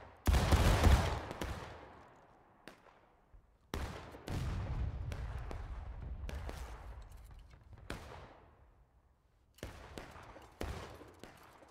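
Musket volleys ring out in the Civil War game War of Rights: a massed crash opens, then several more ragged volleys and single shots follow at intervals, loud and close, with long echoing tails between them.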